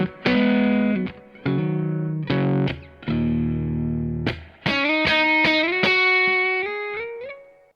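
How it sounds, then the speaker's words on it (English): An electric guitar played through a Carr Trail Rider amp in Vox mode with a little gain rings out in slightly overdriven sustained chords, then picked single notes, loud and alone. "So I put it into a setting in the Vox mode, a little bit of gain, and let's just hear what that sounds like."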